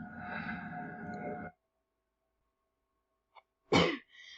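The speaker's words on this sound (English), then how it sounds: "I got to sneeze." A single sharp sneeze bursts out after a quiet pause, preceded by a short intake of breath; a voice speaks before it.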